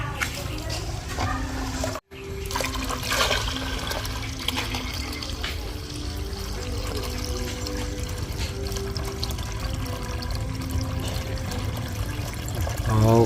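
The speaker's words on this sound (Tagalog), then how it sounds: "At yung tubig na yan ilalagay niya uli sa balde na ito." Water from washing glutinous rice is poured into a bucket in a kitchen, a steady continuous splashing and gurgling that runs throughout with a brief break near the start.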